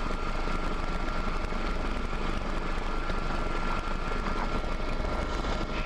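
An AW139 helicopter flying offshore over the UK at night gives a steady, dense cabin roar of turbine and rotor noise, continuous and even throughout with no talk.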